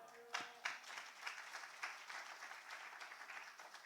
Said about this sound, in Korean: 오른손 들고 환영하면서 박수로 환영하겠습니다